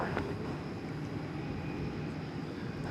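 A Qantas airliner takes off at night from the north end of runway 18 Left at DFW Airport, heard as a faint, distant, steady jet roar with no voices.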